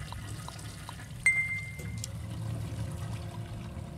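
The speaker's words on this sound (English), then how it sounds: "Water works, yes, and flush again." A toilet flushes in the office-simulation video game Desk Job: a steady rush of running water continues throughout, broken by a brief sharp tone, with no talking.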